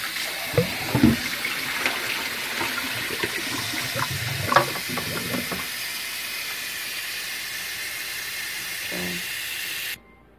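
Water runs steadily from a kitchen tap while raw fowl chicken is rinsed for a stew, a hissing stream with splashes and clatters in the sink before it stops abruptly at the end.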